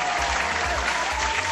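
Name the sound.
applause sound effect of clapping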